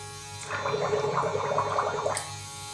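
An airbrush gun sprays water while being cleaned of acrylic paint: a steady hissing spray of air and water for about a second and a half, close and moderately loud, starting and stopping abruptly.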